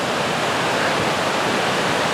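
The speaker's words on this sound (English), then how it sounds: "It's a little spring-fed creek right here that crosses the trail." A small spring-fed mountain creek crossing a trail in the Pecos Wilderness rushes over cascades, giving a steady, close, full wash of flowing water with no voices.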